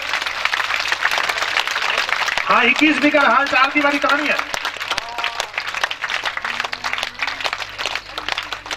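A crowd applauds at a religious katha gathering in Jodhpur, dense clapping running throughout while someone speaks over it and a brief sung or tonal voice rises in the middle.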